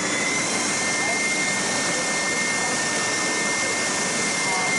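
Triton TSPST450 450W oscillating spindle and belt sander running steadily, a continuous broadband motor-and-abrasive whine with a thin high tone, even and close throughout with no talk.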